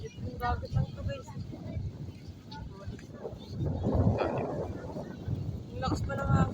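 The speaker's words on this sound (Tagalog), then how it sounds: "Yung lakas pa ng hangin." Strong wind buffets the microphone steadily at a free beach in Marinduque, a dense low rumble with surging gusts throughout.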